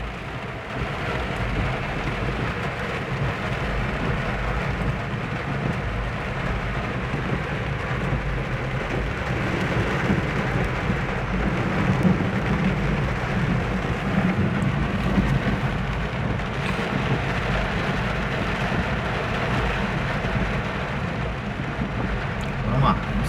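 Rain falls in Osasco, a steady, dense hiss of drops on surfaces that continues evenly throughout, with a low rumble beneath.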